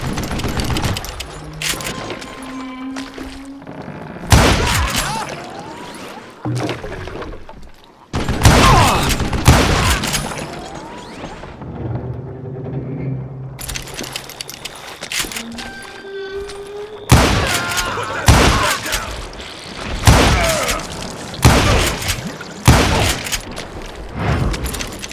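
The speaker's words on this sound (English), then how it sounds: "a fusillade of bullets come raining down from on high" A fusillade of gunfire in the Western video game Call of Juarez: Gunslinger, loud rapid volleys of shots and booming impacts coming in repeated bursts, with music or ambience between them.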